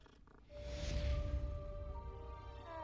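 A cat purrs in the video game Hogwarts Legacy, a soft steady rumble swelling after the first half second and holding under a faint tonal game background.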